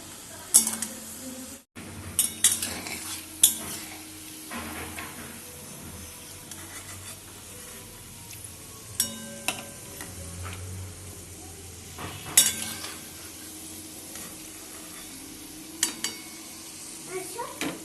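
Onion pakoras (peyaji) fry in hot oil in a home kitchen, a soft hiss punctuated by clinking spoon and pan knocks from stirring, while a voice speaks intermittently.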